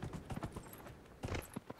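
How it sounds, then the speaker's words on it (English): Horse hooves clip-clopping in Dragon Age: Inquisition as a rider climbs a mountain, a quiet uneven patter of steps with a brief burst of quicker hoofbeats, faint and without talk. "I'm mountain climbing on a horse"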